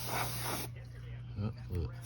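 Compressed-air spray blasting inside an opened PS5 console: a loud broadband hiss that runs for about half a second and then cuts off, with a few quieter hisses and a low electrical hum underneath.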